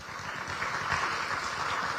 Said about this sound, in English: there's a reason to applaud for that